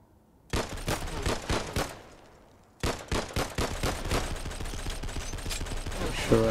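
Video game gunfire from an assault rifle and a pistol, bursts of rapid sharp shots in quick strings, a brief pause, then sustained close firing.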